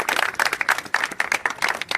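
Close, lively applause from an audience, many hands clapping quickly and unevenly for a short burst.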